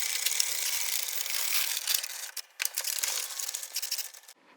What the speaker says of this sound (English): And I will knit 2 rows.